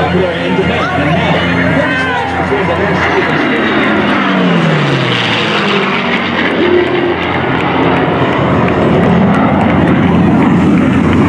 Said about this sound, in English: the World War II P-51 Mustang